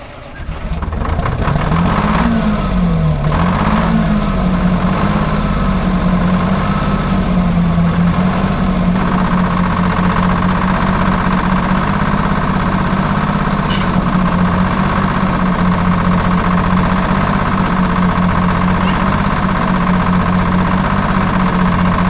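A 1940s crane engine, left sitting for over ten years and losing its fuel prime, catches after an ether spray. It wavers briefly as it starts, then settles into a loud, steady, low-pitched idle close by.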